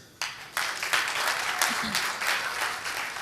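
Audience applause for spelling contest candidates at a televised French spelling championship, a sudden burst of dense clapping that swells and holds steadily throughout.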